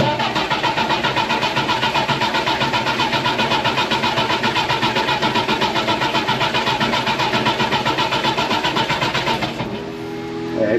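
A Jeep FC-150 being brought out of long storage cranks loudly and steadily for nearly ten seconds with a rhythmic churning, then the cranking cuts off abruptly into quiet.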